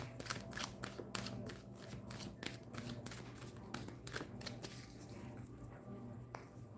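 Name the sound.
tarot cards being shuffled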